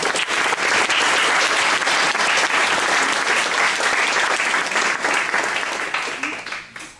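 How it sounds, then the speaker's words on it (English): Audience applause fills a graduation ceremony hall, a dense, steady wash of many hands clapping that holds strongly for several seconds before tapering off at the end. "let's give them a applause."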